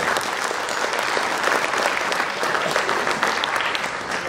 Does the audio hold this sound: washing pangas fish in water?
no